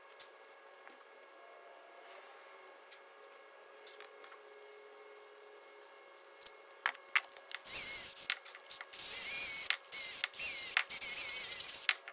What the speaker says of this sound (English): you could just see I just wound all the bolts in there with the battery ratchet